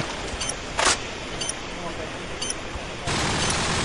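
Scattered gunfire from a Call of Duty 4 competitive match: a louder burst early, then lighter isolated shots, over continuous game noise that thickens near the end.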